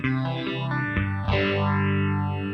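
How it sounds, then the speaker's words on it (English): An electric guitar chord rings out through a Phase 90-style phaser on a Fractal FM3 modeler, its tone swirling and whooshing in slow, rising and falling sweeps. "The phaser, I generally tend to like phase 90."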